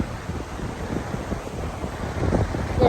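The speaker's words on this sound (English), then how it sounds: "It's very windy here." Steady wind roars across the microphone at an ocean beach, a loud continuous rumble that swells slightly toward the end, with no talking.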